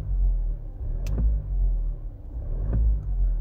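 A Toyota Land Cruiser Prado's 2.8L turbo diesel idles with a deep, steady rumble and swells briefly in two short revs, close by and with no talking.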